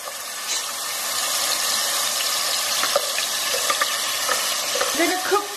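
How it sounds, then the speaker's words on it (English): Roughly blended onion frying with cumin seeds in oil for a mutton masala curry, a continuous close sizzle with stirring clinks and scrapes, mostly alone with faint background speech. "I'm going to cook these onions through well for about 5 to 8 minutes till it completely reduces in quantity"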